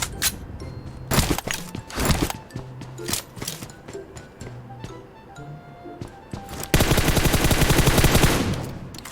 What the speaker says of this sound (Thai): โดยเรายิงบอทคนนี้กัน